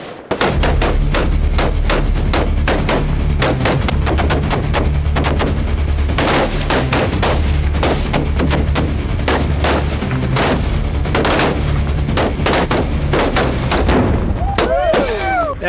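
A rifle is fired again and again outdoors in a rapid, continuous string of loud, sharp cracks and thumps, each close and punchy, with barely a pause between them.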